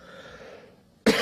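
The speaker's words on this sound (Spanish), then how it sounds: "disculpen mi tos" A man delivering a Spanish-language speech about economics and climate lets out a single sharp, close cough right at the end, after a moment of quiet room tone.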